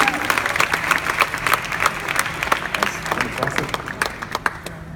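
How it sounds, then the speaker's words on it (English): Loud audience applause after a startup pitch battle, with dense, bright clapping and crowd noise filling the whole stretch, voices mixed in beneath and the clapping thinning slightly toward the end. "Round of applause for both."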